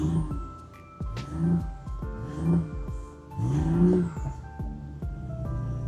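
A BMW i8 hybrid sports car engine revs up repeatedly in short surges, rising and falling in pitch, growing louder toward the end with a rumbling growl.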